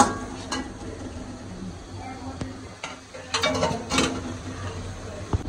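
Roast pieces go into a pan of fried spice masala, with clattering of utensils against the cookware and a faint sizzle, several sharper knocks clustered near the end.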